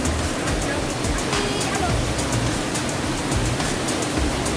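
Salvosa Falls in Davao de Oro, a waterfall heard as a loud, dense, unbroken roar of rushing water that fills the whole clip at a constant level, close by.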